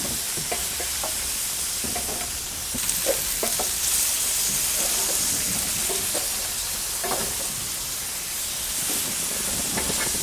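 Halloumi chips sizzle and hiss steadily on a hot Weber Q grill, a constant bright frying crackle with occasional soft pops and stirring clicks close by, no talk.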